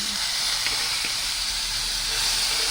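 Washed, cut potatoes sizzle in hot oil with bay leaf and dried chilli, browning for a fish and ash gourd curry; a steady, loud, close hiss runs throughout with a few faint clinks.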